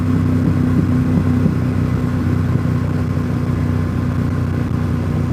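A Ducati 848 motorcycle engine drones steadily at high speed on a road through the Smoky Mountains, a loud continuous hum with wind, no talking.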